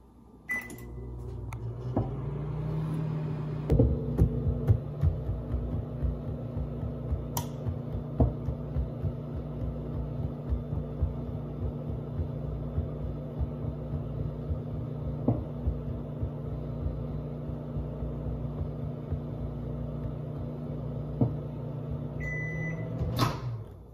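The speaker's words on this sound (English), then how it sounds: "we're gonna put this in the microwave and eat it." A microwave oven hums steadily while heating food, a constant close drone with a faint rattling texture, opened and closed by clicks and a door thump at the start and end, no voices.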